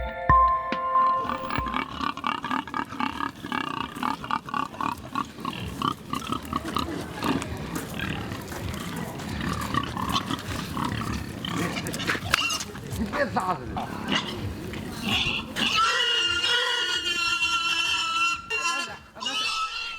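A pig about to be sacrificed at a Shandong sea-goddess Mazu fishing festival squeals and screams loudly and continuously, with crowd noise and voices mixed in throughout.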